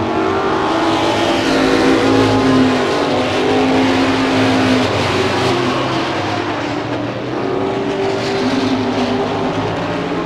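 Stock race cars roar around Hudson Speedway on the final lap of a 1988 weekly race, several engines droning and overlapping loudly as they pass close by.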